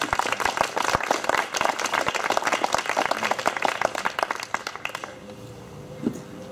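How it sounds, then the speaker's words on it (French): Loud, dense audience applause at a Cercle républicain Bastille Day gathering, many hands clapping steadily and close, then thinning out toward the end with a few scattered claps. "Et on peut t'applaudir bien fort"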